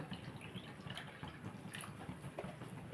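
Tamarind water being poured into a simmering fish curry, a faint, soft splashing and trickling of liquid close by, with no talk over it.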